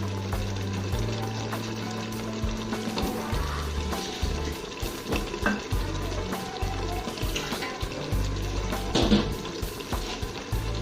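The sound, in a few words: mutton biryani masala frying with lemon in pan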